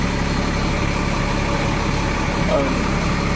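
A Class A truck engine idles with a continuous, even, low rumble that holds steady and close throughout, while a voice talks over it.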